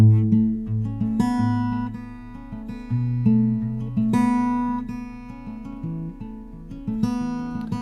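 A plucked acoustic guitar riff repeats a quick melodic pattern of ringing notes, clear and close, played alone without voices.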